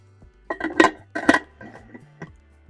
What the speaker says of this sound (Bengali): আবারও ঢাকনা দিয়ে দিচ্ছি